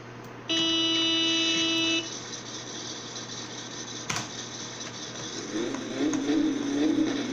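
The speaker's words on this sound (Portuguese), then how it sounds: "Bora ligar o carro." Satsuma car in My Summer Car fitted with a racing carburetor, on a dyno: a short horn-like tone, a sharp click, then the engine catching and revving up, growing louder toward the end.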